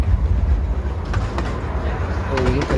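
Miniature steam train running on rails through scenic countryside, a steady low rumble and rolling clatter continuing throughout, with people talking over it.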